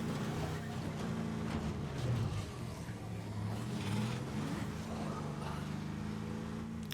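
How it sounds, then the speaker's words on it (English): A car drives in the zombie survival game State of Decay 2, its engine a steady low droning hum with gently rising and falling pitch, continuous and fairly quiet throughout. "So now we're suddenly going from sneaky and subtle to very loud, driving a car around."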